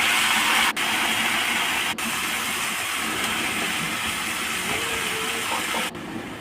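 Chopped vegetables with fine-chopped green chili stirred in a hot pan: a loud, steady broadband sizzle and hiss that runs without a break, with a few brief dips.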